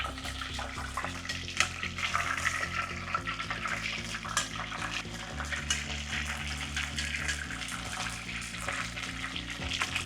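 Battered fish, a delicate freshwater variety, frying in a pan of hot oil, giving a steady broadband sizzle throughout, close and continuous, over a layer of low background music with no talk.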